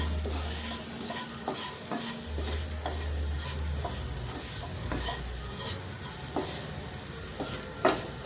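Spoon stirring potato dry roast masala in a pan, with sharp scraping clicks at an irregular pace over a soft sizzle of frying, close and fairly quiet, no talking.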